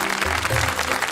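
Crowd at an inter-college dance competition breaking into applause, a thick wash of clapping hands with a low hum underneath, steady and fairly loud for a short stretch.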